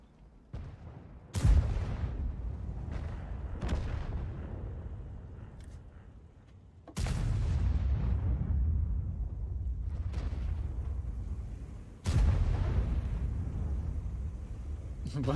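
Tank destroyer cannon shots in a tank video game come as several sharp, heavy booms spaced seconds apart, each decaying into a rumbling tail, with someone talking between and over them.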